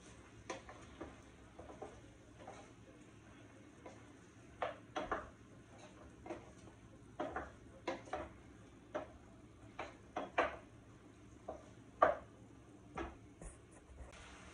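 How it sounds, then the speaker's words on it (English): A utensil stirs meat and its juices in a pan for rigatoni with chicken, making quiet, irregular clinks and scrapes over a soft background. "Now I'll be adding into my pan my meat with juices and everything. And I'll be mixing."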